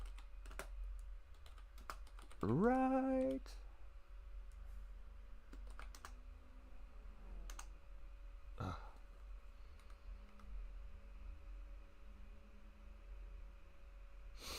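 Sparse keyboard clicks and taps are scattered through a quiet room, with a brief spoken word and a short voiced noise partway through.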